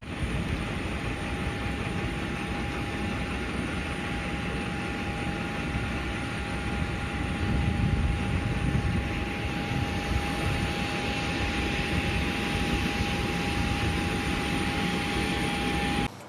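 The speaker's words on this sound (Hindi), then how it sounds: "हवाई जहाज़ से वहाँ लोगों को पहुँचा रहे हैं।" Airplane carrying people home, a loud steady roar of aircraft engines droning continuously with a constant high whine and no talk.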